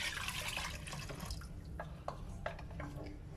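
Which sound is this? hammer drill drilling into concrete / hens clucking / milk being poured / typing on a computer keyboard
milk being poured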